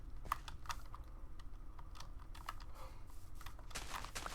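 Close computer keyboard keys clack in short irregular bursts of typing, crisp individual taps with small gaps, alone in a quiet room.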